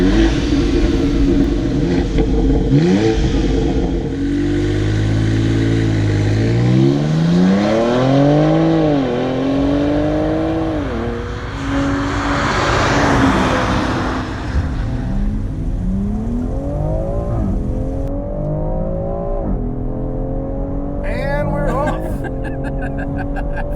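A BMW X3M Competition SUV accelerating hard on a test drive, its engine climbing loudly through the revs with rising and falling sweeps as gears change, continuous and close throughout.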